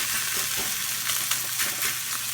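Moose meat sizzling on a hot grill, a close, continuous hiss and crackle of frying with small pops and occasional scraping as the pieces are moved around.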